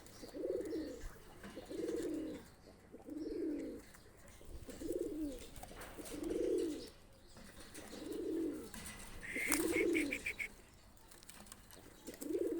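Pakistani and Omani high-flyer pigeons coo in a steady repeating rhythm, about eight low cooing phrases spaced roughly a second and a half apart, fairly close, with a brief higher chirp near the end and no talk.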